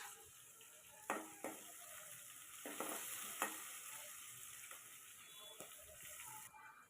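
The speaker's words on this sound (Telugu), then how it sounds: "ఇప్పుడు పచ్చిమిర్చి వేసుకుంటున్నా ఈ పచ్చిమిర్చి నూనెలో బాగా మగ్గిన తర్వాత చూడండి ఇట్లా బాగా మగ్గనిచ్చుకోవాలి" Green chillies frying in hot oil in a pan on a home stove, a steady close sizzle and crackle with a few sharp stirring clacks and scrapes breaking through at intervals.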